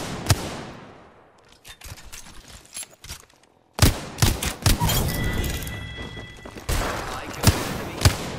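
Bursts of gunfire in Apex Legends, sharp loud automatic shots in several volleys with brief pauses, one near silence midway, and a voice speaking between shots.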